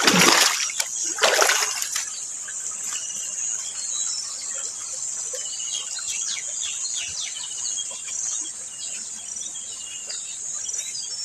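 River water pours into a rice paddy with a couple of splashy bursts at the start, then a soft steady wash under a loud, constant chorus of crickets and other insects.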